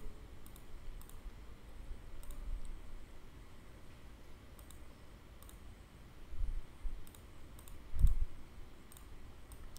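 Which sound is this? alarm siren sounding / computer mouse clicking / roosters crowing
computer mouse clicking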